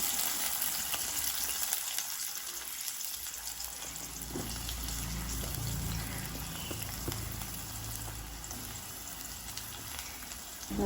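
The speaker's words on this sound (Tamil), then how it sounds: "இப்போ முதலாவது வெட்டி வச்ச வெங்காயத்தை போடுவோம்." Chopped onions dropped into hot oil for vegetable patties filling, giving a steady broadband sizzle with a brief louder surge midway as they hit the pan, no voices throughout.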